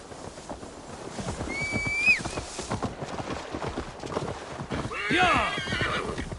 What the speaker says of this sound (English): Deliver Magni his horse.